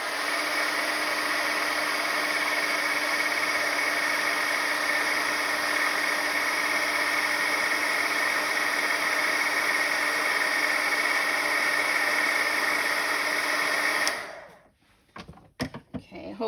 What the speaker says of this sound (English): I'm gonna make noise again with the heat gun